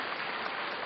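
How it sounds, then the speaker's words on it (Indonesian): Applause for the Indonesian national team fills a short moment as a dense, even wash of clapping. "Tepuk tangan untuk tim nasional Indonesia"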